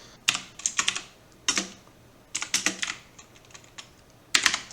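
Numbers are typed on a computer keyboard into a chat: short clustered bursts of crisp key clicks with brief pauses between groups, close and clear, with no talking.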